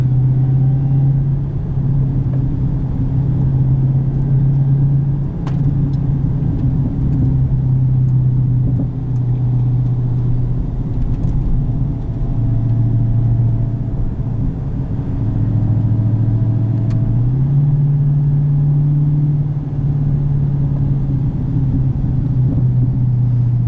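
2018 Dodge Demon engine at low-rpm cruise, a loud, steady deep exhaust drone with slight pitch shifts and a few faint crackles, heard from inside the car with no talking.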